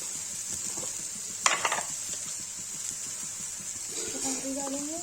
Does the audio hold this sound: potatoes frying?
yes